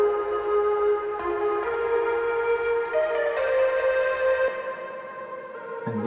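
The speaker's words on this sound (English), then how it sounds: "And this is the sound of the pan flute layer." A synthesized pan flute layer from a trance lead plays a sustained, breathy melodic line with bright harmonics and an echoing, reverberant tail, holding steady notes that shift pitch slightly before fading near the end.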